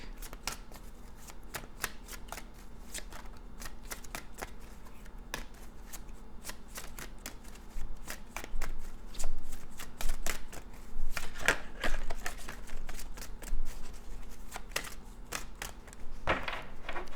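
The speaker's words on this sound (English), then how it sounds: "we'll also pull a row from the Psychic Tarot deck." A Psychic Tarot deck is shuffled close up with a long run of crisp, fluttering card riffles and slaps that grow louder partway through, with no talking.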